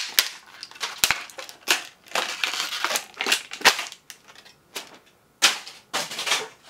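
A Bionic Grip wrench replacement is squeezed repeatedly, giving a quick irregular run of sharp, close plastic-and-metal clicks and crunches with short pauses between bursts, with no talking.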